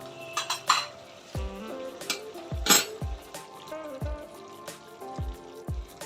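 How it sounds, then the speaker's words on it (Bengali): Chicken pieces are sautéed in a pan with steady sizzling. A metal spatula scrapes and clanks against the pan in repeated strokes, loud and close. "চিকেনটা এখানে কষছে"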